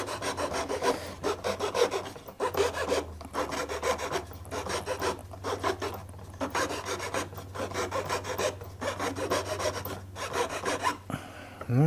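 A wooden spindle is rolled back and forth in the groove of a saw-sharpening file, giving a steady run of rasping strokes, each a second or so long, close and moderately quiet, ending with a brief knock.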